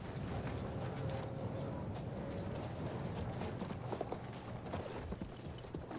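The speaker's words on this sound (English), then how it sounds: "let's jump back on my little horsey then" Horse hooves clip-clop steadily in Battlefield 1, a continuous rhythmic clatter over a dense rumbling game background, fairly close and with no voices.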